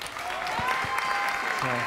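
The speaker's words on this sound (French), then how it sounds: "Je pense qu'on peut les applaudir tous les deux." Audience of about 300 people applauding two chess players, one of them 14, at a live chess show; a brief, dense burst of clapping mixed with speech.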